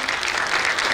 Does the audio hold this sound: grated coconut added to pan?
no